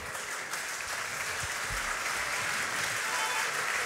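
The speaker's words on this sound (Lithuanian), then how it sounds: "plojimai." Steady, dense applause from an audience at a farming event, continuous and fairly loud throughout with a few brief murmurs but no clear speech.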